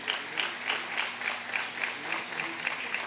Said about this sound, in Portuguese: você pudesse também dar uma salva de palmas